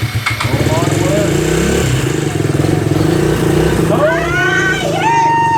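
A small farm bike's motorcycle engine runs loud and close at a steady rough idle with a few rising revs, while excited voices talk over it.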